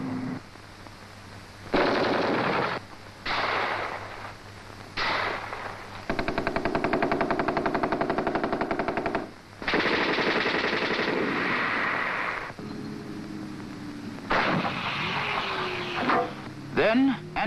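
Tanks fire machine guns in a military troop tactics film, with repeated bursts of rapid automatic fire, including one long rattling stretch, separated by short pauses and set against background noise.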